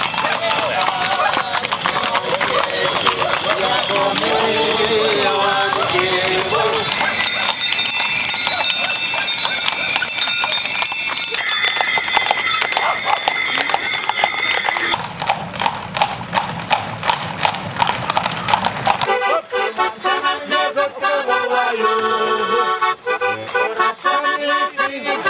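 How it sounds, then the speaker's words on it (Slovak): Hooves of draft and riding horses clip-clop on the road during a festive wagon parade at a village carters' day, a steady rhythmic clatter throughout, with music, crowd sounds and a narrating voice over it. "Furmanský deň odštartoval slávnostným vozovým sprievodom ťažných a jazdeckých koní obcov Timoradza"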